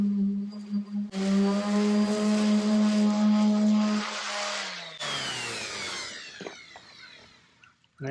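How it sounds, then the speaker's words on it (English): An electric sander wet-sands boat gelcoat with soapy water, its motor whining at a steady pitch, then winding down and spinning up again with a gritty scrubbing hiss, loud and close. "I don't recommend that you ever use an electric sander wet sanding"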